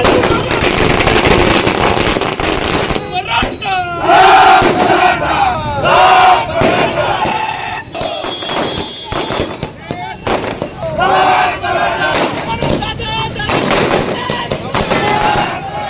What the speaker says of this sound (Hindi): लोग पटाखे फोड़ रहे थे।